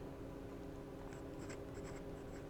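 Fine-nib fountain pen scratching across paper in light scribbling strokes, a soft, close, intermittent scratch over a steady low hum, with no talking.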